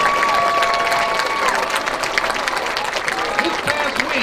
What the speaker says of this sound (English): Please give a round of applause for your 2019